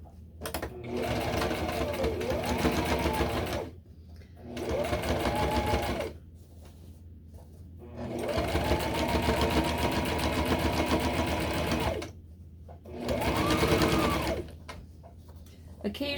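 A sewing machine stitches around the top of a tote bag liner in four bursts of steady whirring, with short pauses between runs and people talking quietly in the gaps.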